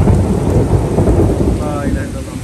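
Heavy rain pours down loudly and steadily while a deep rumble of thunder rolls underneath, close and dense, with no voices over it.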